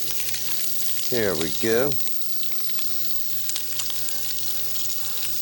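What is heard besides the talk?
potatoes for French fries frying in hot oil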